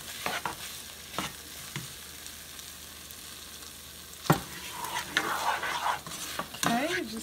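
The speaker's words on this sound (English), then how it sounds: "you just keep stirring it around" A spoon stirs a thickening milk and flour roux sauce in a pan, making soft scraping and faint sizzling near the mic, with a few sharper clinks and louder swirling toward the end.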